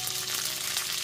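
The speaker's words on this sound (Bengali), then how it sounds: "আদা বাটাটা দিয়েও খুব ভালো মতো একটু নাড়াচাড়া করে নেওয়ার পর এর মধ্যে দিয়ে দিচ্ছি পেঁয়াজ কুচিগুলো" Chopped onions frying in a pan with ginger paste and garlic, giving a steady, close hiss of sizzling oil throughout with no voices.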